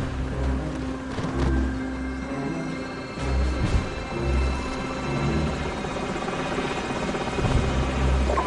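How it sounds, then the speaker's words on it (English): Enemy helicopters in Call of Duty 4: Modern Warfare, a steady, close rotor thump with a low engine drone running through the whole stretch at fairly constant loudness, with no talk over it. "Enemy helicopters."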